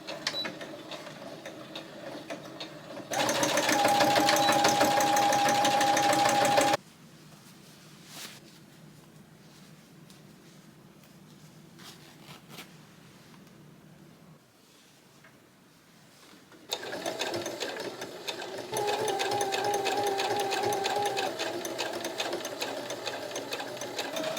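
A sewing machine stitches a denim dress waistband in two loud, steady runs of rapid mechanical whirring, separated by a quieter stretch of faint handling and ticking.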